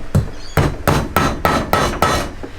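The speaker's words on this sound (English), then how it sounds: "tap the seal into place with a hammer" A hammer taps a valve stem seal home on a Toyota 4A-GE/7A-GE cylinder head during an engine build, six firm, evenly spaced metallic knocks, close and solid.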